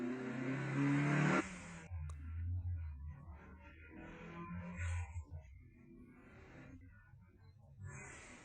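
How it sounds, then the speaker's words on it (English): A car in the Initial D anime, engine revving hard for a moment then cutting off into quieter mechanical rumbles and scuffs as the handbrake is pulled, with low motor noise continuing faintly. "I like that handbrake sound"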